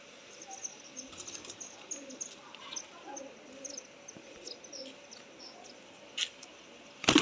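Pet pigeons, such as red-eyed dab and golden teddy birds, coo softly in low, rounded phrases with a few faint chirps and a brief murmur of a voice in a quiet space.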